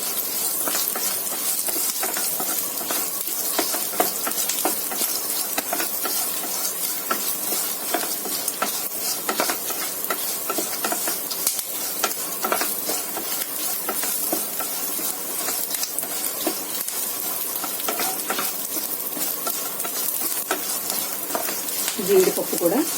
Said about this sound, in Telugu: చివరిలో వేసుకుంటే జీడిపప్పు మాడిపోకుండా చక్కగా వేగుతుందండి.